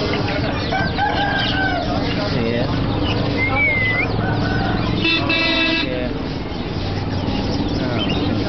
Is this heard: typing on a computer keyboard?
no